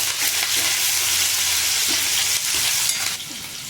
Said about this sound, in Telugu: కరివేపాకు వేసుకోవాలి, కలుపుకోవాలండి.